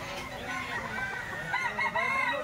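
Chickens cluck and a rooster crows at a crowded poultry market in the rain, with several overlapping calls standing out against steady background noise and murmuring voices.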